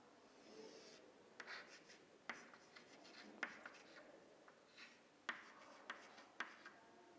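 Handwriting out a physics force-resolution problem, faint close scratching strokes with crisp taps at irregular moments as pen meets the surface, no talking.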